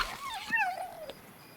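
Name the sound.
jackal pup creature sound in the video game Monster & Memories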